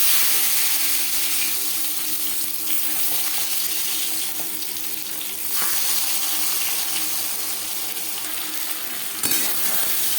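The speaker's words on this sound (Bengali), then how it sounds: "3 চামচ রিফাইন্ড অয়েল গরম করে নিয়েছি। এবার দিয়ে দেব মাছের ডিম।" Boal fish roe frying in hot refined oil gives a steady, loud, close sizzle and crackle that runs unbroken, with faint stirring and scraping underneath and a brief clatter near the end.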